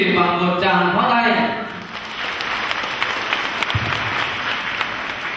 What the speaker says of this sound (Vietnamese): xin kính chào quý vị bằng một tràng pháo tay